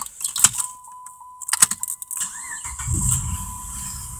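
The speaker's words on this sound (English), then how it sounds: "Okay, so we have the car started" A Chrysler 2.7L car engine with a cylinder misfire cranks and starts after some clicks and key jingles, then settles into a low, steady idle close by.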